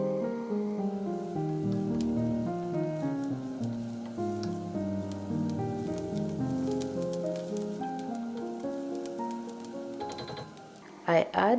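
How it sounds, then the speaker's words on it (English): Onions sauté in hot oil for a stew, a steady soft sizzle running underneath continuous talking, with a brief clatter near the end. "I heat some oil and sauté the onions until they are translucent."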